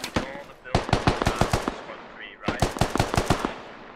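Two rapid bursts of automatic rifle fire crack in a tactical military shooter game, each a quick run of sharp close shots separated by a short pause, with faint distant shots in between.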